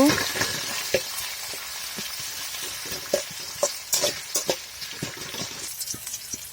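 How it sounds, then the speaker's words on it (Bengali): Chopped onion and green chilli frying in oil with panch phoron, a steady close sizzle broken by frequent scraping stirs, with no talk. "পেঁয়াজ কুচি, কাঁচা লঙ্কা, ভালো করে ভেজে নেব।"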